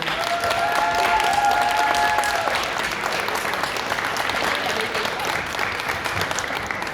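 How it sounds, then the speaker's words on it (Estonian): An audience at a vegetarian food fair applauds an animal rights speaker, a dense, sustained round of clapping heard close and steady throughout, with brief whistle-like tones and faint voices mixed in early on. "teeme sulle suure aplausi"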